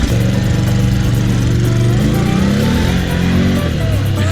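A used Ski-Doo Renegade 800 XXC snowmobile engine runs close by with a steady, buzzing two-stroke drone that wavers slightly in pitch, with faint voices in the background.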